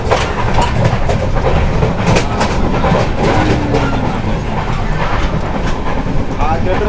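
A crowded Indian passenger train, the Purna–Pune Express, runs on its rails with a steady, loud rumble and continuous rattling clickety-clack. The sound is dense and unbroken, with faint passenger voices mixed into the din.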